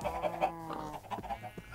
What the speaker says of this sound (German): Ein paar Hühner noch.